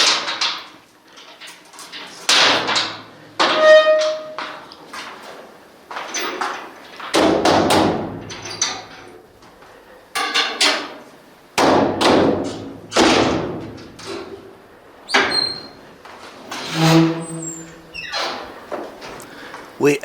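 A tomb keeper pounds on the entrance door of an Egyptian royal tomb at the bottom of a stairway, delivering loud, uneven bursts of heavy thuds and knocks that echo in the enclosed space.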